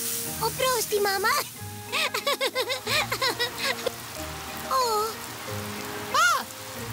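Water from a cartoon garden hose sprays in a steady patter, like rain on a surface, while childlike and adult cartoon voices talk excitedly over it.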